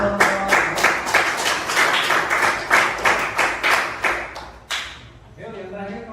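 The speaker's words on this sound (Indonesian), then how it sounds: "Tepuk tangan untuk kelompok." Classroom applause for a student group in an automotive class, a burst of many hands clapping in quick irregular rhythm for about five seconds, fading out with voices murmuring underneath.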